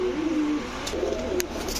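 Racing and high-flyer pigeons, including Rajshahi giribaaz females, coo in low soft throaty calls close by, with faint chirps from other birds in the background.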